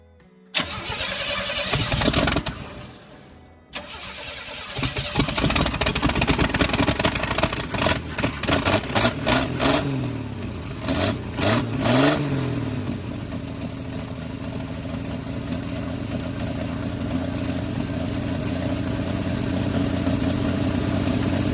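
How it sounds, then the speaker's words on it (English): A 1967 Chevrolet C10 pickup with an adjusted carburetor cranks, catches and then idles steadily with some revving, loud and close outdoors in a field, with no talking. "Let's see if it'll start up in idle now."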